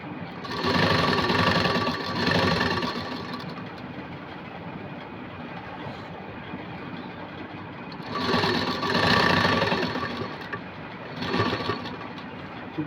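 A sewing machine stitches the lining of a princess-cut blouse, a steady mechanical whirr that runs close and loud in long bursts, fading to a quieter hum between runs.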